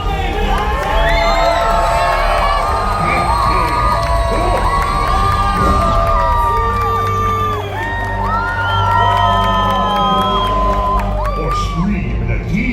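A large crowd at a live Disney villains theme show cheers, whoops and shouts continuously, with children's high-pitched yells rising over a dense, loud roar that dips briefly and surges again.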